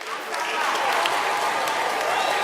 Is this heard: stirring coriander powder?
no